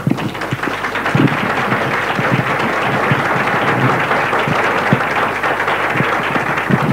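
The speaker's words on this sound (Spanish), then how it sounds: "Les agradezco el aplauso" A lecture audience gives a philosophy speaker, Father Antonio Oliver, sustained loud applause: thick, continuous clapping from many hands fills several seconds at a steady level, with no talk over it.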